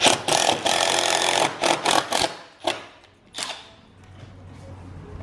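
A power drill drives screws into a door threshold during an old wooden French door rehab: a long whirring run, then several short bursts that fade into quiet room tone.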